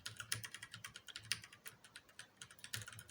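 Rapid, uneven typing on a slightly sticky computer keyboard, with close, crisp clicks of keys being struck in quick bursts and short pauses, heard alone at low volume.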